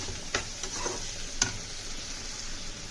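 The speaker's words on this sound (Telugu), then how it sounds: "ఇలా కాసేపు ఫ్రై చేసుకుందాం. చూసారా, ఆనియన్స్ చక్కగా మంచిగా ఫ్రై అయిపోయినాయి." Onions fry in a pan with a steady sizzle, and a spoon scrapes and stirs them in a few distinct strokes near the mic.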